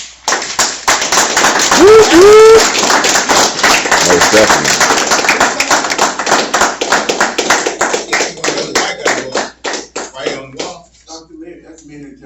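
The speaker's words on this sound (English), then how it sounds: "Clap it up for your people." Audience clapping at a mentoring talk, dense and loud at first, then thinning into scattered claps that fade out, with a person speaking over the applause.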